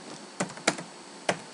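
A few separate keystrokes tap quietly on a computer keyboard while a spreadsheet tab is renamed in Microsoft Excel, with brief pauses between the clicks.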